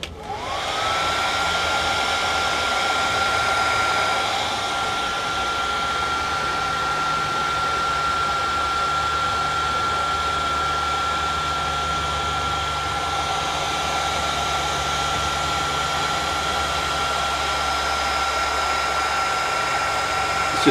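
Heat gun blows a steady, loud whoosh with a faint whine, shrinking heat shrink tubing over a 12-channel audio return snake cable, running continuously without talk.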